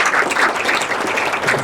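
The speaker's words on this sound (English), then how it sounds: "Let's give Jill a little round of applause." Audience applause for Jill, a local leader, at a talk on moving beyond neighborhood councils to run for higher office: a steady, dense patter of many hands clapping throughout, fairly close and even in loudness.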